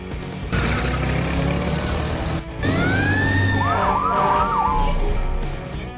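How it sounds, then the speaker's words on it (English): A fire truck siren wails in rising and falling sweeps over a loud, steady diesel engine rumble, close by, with a brief break partway through and no voices. "Fire truck."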